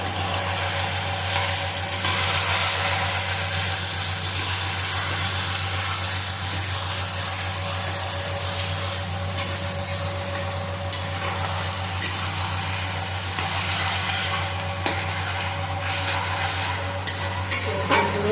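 Black yam leaves fry in a pan while being stirred, a continuous loud sizzle with scattered scraping strokes over a steady low hum throughout.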